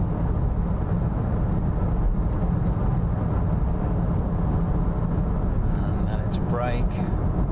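Car driving at around 60 mph during an NVH vibration test, heard from inside as a steady, loud broadband road and engine rumble that continues throughout.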